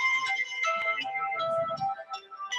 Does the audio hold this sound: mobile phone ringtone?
yes